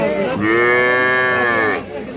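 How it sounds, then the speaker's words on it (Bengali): A young heifer calf at a cattle market lets out one loud, sustained moo, clear and close, lasting just over a second with no other sounds around it. "বকনা বাছুর"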